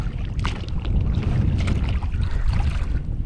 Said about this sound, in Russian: ветер сегодня очень сильный. Штормовой, можно сказать.